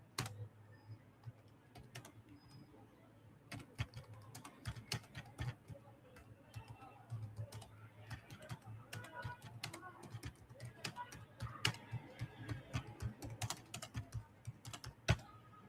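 Quiet, close typing on a computer keyboard, with irregular bursts of rapid key clicks continuing throughout, alone with no talk.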